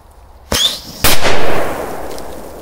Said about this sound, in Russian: Так, теперь давайте повзрываем больших петард.